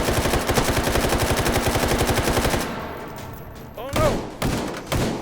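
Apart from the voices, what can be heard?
gunfire in H3VR video game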